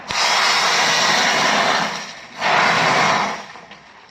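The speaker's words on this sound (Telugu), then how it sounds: "పోపు వేసి పప్పులోకి కలిపేస్తాం" Loud hissing sizzle of a hot oil tempering with fried chilli pieces poured into mango dal in two bursts, the second after a short lull, fading at the end.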